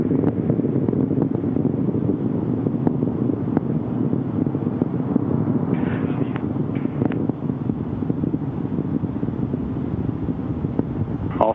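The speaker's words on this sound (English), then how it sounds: "All three engines looking really good, back at full throttle now at liftoff" Space Shuttle Atlantis roars at full throttle just after liftoff, all three engines running on a steady, dense, loud rumble that continues unbroken, slightly buffeted like wind on a microphone.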